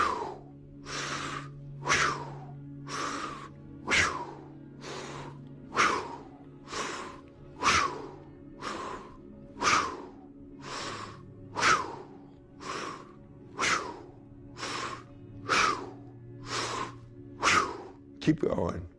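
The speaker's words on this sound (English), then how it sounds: "Deep breath in together." Deep rhythmic breaths in and out during a superventilation breathwork exercise, about sixteen strong whooshing cycles at a steady pace, close and loud, with a faint low drone beneath.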